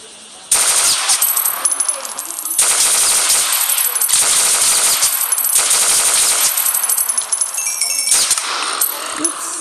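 Rapid automatic gunfire from a Philippine army guns mod in the video game Minecraft, with loud sustained bursts separated by short pauses and some faint clicks, no talking over it.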